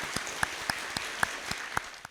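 Applause from a studio audience at a televised secondary-school debate show comes as a steady patter of clapping with a few sharper individual claps standing out, fairly close and without speech.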